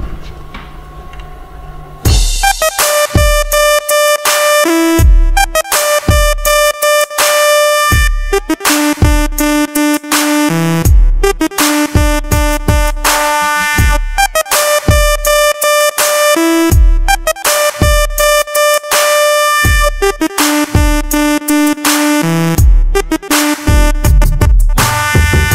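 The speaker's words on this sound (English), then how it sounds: "a saw lead, unison saw lead" Korg Kross unison saw lead synth playing a bright, sustained trancey melody over a steady programmed drum track, loud and continuous after a brief quieter intro.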